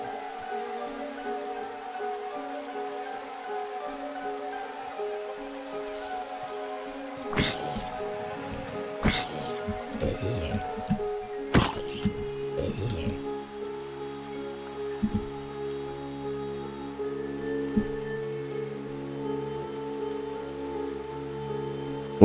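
Steady, soft rain patters throughout a Minecraft game scene, a constant light hiss with a few sharper clicks and game sounds briefly standing out midway.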